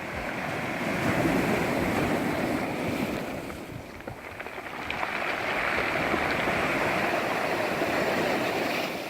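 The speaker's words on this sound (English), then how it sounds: "I sat down on a rock by the shore, took in the salty sea breeze and watched the waves" Sea waves wash against a rocky shore at Byblos, Lebanon, a steady hissing surf mixed with wind buffeting the microphone that dips briefly midway and then swells again.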